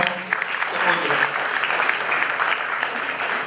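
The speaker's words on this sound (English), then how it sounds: "Please, a round of applause for them as they come out." A crowd at a school graduation ceremony applauds as students come out for a fusion dance, with steady clapping running throughout and people talking over it.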